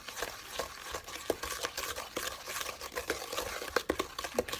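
Bread batter for a pear ginger pecan loaf being mixed with spices in a bowl, giving close, irregular wet scraping and thudding strokes that keep going throughout.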